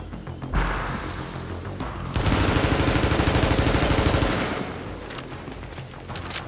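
Automated sentry guns firing in The Division, a sustained rapid burst of loud gunfire lasting a couple of seconds before trailing off into background game noise.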